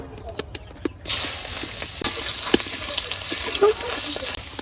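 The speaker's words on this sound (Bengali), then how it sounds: "পেঁয়াজ কুচি দিয়ে দিলাম" Chopped onion hits hot oil left from frying hilsa fish, setting off a sudden loud hiss after a second of faint clatter, then a sustained close sizzle with occasional stirring taps.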